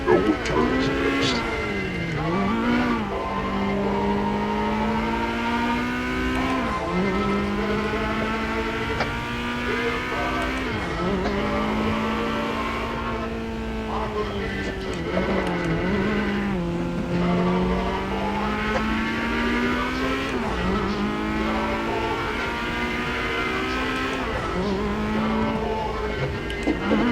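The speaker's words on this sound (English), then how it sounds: "I forget I can accelerate so hard out of these corners" Car accelerating hard out of corners on a track, engine revving up and down through gear changes in a loud continuous whine over more than twenty seconds.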